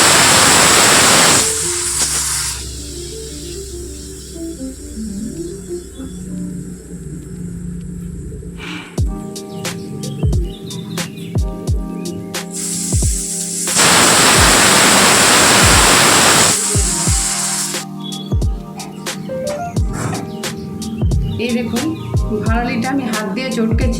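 A pressure cooker cooking bharali fish lets out two long, loud hissing steam whistles, separated by a stretch of clattering, clicking kitchen sounds, with more clatter after the second whistle.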